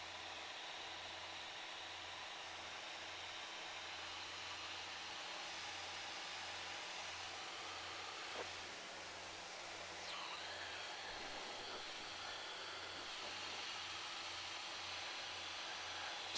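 A light aircraft engine runs at about 2,300 RPM with the prop pulled back, producing a steady, continuous broadband drone heard from inside the cabin for the whole stretch, with no speech.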